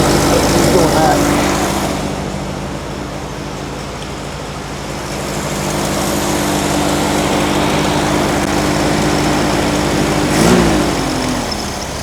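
The air-cooled engine of a 1957 VW Beetle idles steadily nearby as its choke warms up, giving a constant buzzy hum whose pitch shifts slightly, with a brief swell near the end.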